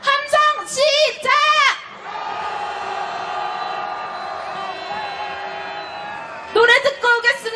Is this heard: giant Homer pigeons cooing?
no